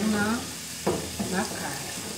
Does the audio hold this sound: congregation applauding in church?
no